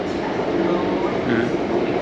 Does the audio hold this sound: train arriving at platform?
yes